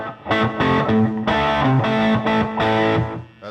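Overdriven electric guitar through an amp's lead channel with delay and reverb in the effects loop, playing a loud sustained run of chords and notes with ringing repeats and a reverb tail, no voices.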